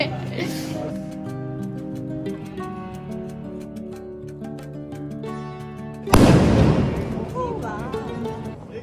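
A sharp, loud burst of Diwali firecracker crackle erupts near the end, cutting across steady tonal music and background sound that fill most of the clip.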